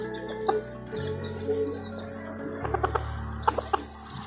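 Shamo chickens cluck nearby, several short bursts clustering toward the end, over a steady low mechanical hum.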